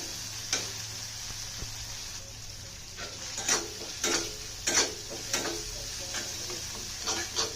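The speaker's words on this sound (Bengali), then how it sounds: "2 টেবিল চামচ পরিমাণ শুকনো মরিচ বাটা দিয়ে মশলাটাকে ভালো করে ভেজে নিব।" Dry chili paste and spices frying in a pan for a pangas fish bhuna, with soft sizzling under repeated sharp scrapes and clinks of a spatula as the mixture is stirred constantly, close and fairly quiet.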